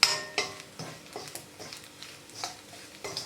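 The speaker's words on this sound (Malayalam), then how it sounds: "മുളക് പൊടി ചേർത്തതിന് ശേഷം ഒന്ന് വീണ്ടും നന്നായിട്ട് വഴറ്റി കൊടുക്കാം." Spatula scraping and clinking in a pan as dried prawn masala with chilli powder is stirred and sautéed in coconut oil, a series of irregular close scrapes over a faint sizzle.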